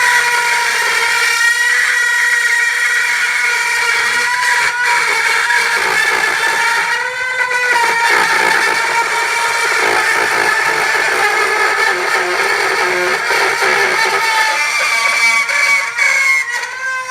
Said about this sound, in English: I'm going to use this cut tool